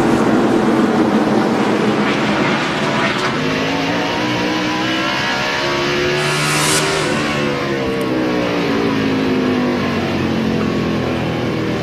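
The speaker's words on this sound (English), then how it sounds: "you listen to Matt Kenseth, how early on the straightaway he rolls out of that throttle" Matt Kenseth's NASCAR stock car roars at full throttle at the 2002 Virginia 500 at Martinsville, then the engine note drops as the driver rolls off early on the straightaway, loud and continuous with other cars droning behind.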